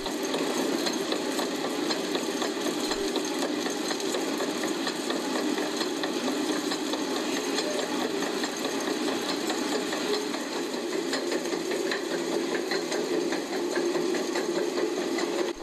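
A grist mill's 1,200-pound runner stone turning at about 120 revolutions per minute to grind flour, giving a steady mechanical rumble and rapid rattling clatter that runs on without a break.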